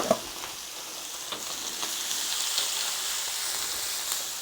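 Bacon sizzling and spitting steadily in a hot pan inside a pizza oven, a continuous crackling hiss with a few sharper pops, no talking.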